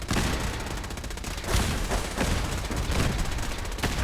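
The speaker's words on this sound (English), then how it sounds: "They have rail guns?" In Fallout 4, rail guns fire in a heavy, continuous barrage of loud shots and blasts during a firefight against the Railroad faction, with a dense crack near the middle and no voices.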